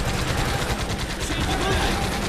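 Dense, continuous gunfire from the Elite Forces video game in survival mode, a steady barrage of rapid shots with no pauses that fills the whole stretch at close range.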